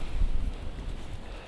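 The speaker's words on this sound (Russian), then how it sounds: "Ветер, конечно, неприятный" Gusty wind blows across open ice during winter fishing, giving a low rumbling buffet with uneven swells that rises early and then settles, alone with no talk.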